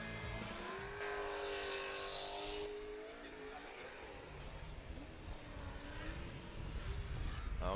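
A Pro 2 drift car at Formula Drift Texas qualifying is held at full throttle, its engine wailing loudly with a rising, wavering pitch and tire roar building toward the end, while a commentator talks over it.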